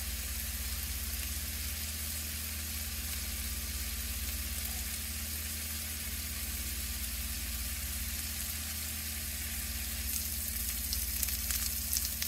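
Beef sausage frying in a pan and rendering its fat, giving a steady, dense sizzle that holds evenly throughout and grows slightly louder near the end.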